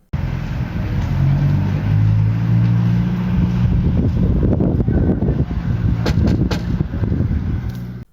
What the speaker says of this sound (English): records a window while you hear traffic in the background